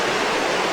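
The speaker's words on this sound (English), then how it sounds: "it makes its way down the concrete wall, beautiful waterfall" Water gushes out of pipes and pours down a concrete wall into a river below, a steady, loud, continuous rush of falling water with no voices.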